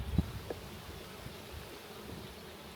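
Honey bees buzz around an open hive during an apiary inspection, a low continuous drone with a couple of brief louder knocks or bumps near the start.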